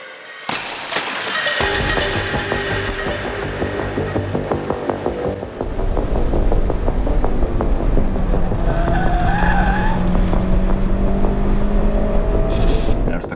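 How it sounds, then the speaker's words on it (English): A Honda Civic Si skids with heavy wheel hop, loud tire squeal and shuddering chatter over a revving engine, with rising and falling squeals throughout. "Notice the car's starting to get a lot of wheel hop, especially from the right-hand side."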